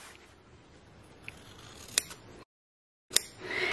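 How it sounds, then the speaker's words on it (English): Scissors cutting along the collar of a men's dress shirt, with faint fabric rustling, a few sharp snips, and a brief silence before another snip and more handling noise. "we're going to take our scissors and we're going to cut right next to where that collar is"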